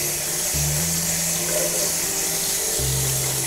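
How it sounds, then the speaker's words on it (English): Potatoes washed under a running kitchen tap, with a steady rush of water and a low pump-like hum that shifts in pitch as the flow changes, close and continuous. "we're gonna wash them, make sure all the dirt's off."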